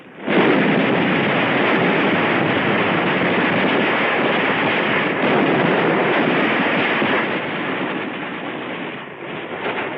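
Dense, continuous battle noise from mortars and rifle fire at Tarawa in 1944. It is loud and rumbling throughout, with booms and rapid shots blending into a constant roar.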